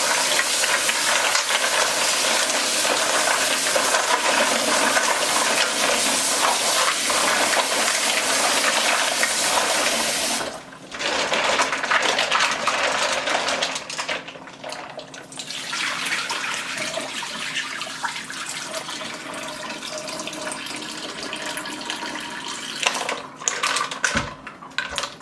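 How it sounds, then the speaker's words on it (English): Fresh mussels rinsed under a running kitchen tap before cooking in white wine: a loud, steady rush of water for about ten seconds, then a softer continuing flow with a few faint knocks near the end, no voices. "Give it a couple of rinses."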